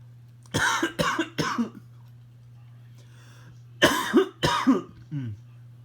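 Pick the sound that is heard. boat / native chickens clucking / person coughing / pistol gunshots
person coughing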